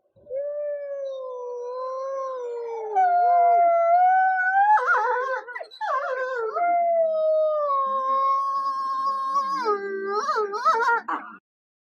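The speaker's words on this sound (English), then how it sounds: "So if you think about wolf howls," A single wolf howls in long, continuous tones that glide smoothly up and down in pitch, rising to a higher wavering section midway and breaking into a few quick yelps near the end, clear and prominent with no other sounds.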